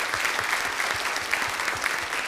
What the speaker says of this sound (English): We're giving a round of applause.